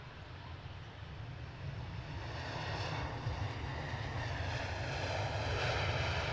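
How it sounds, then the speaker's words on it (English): A Ryanair airliner passes near an airport, its broad engine roar steady and slowly growing louder over several seconds, with no voices. "What we've got here, we have a Ryanair going somewhere."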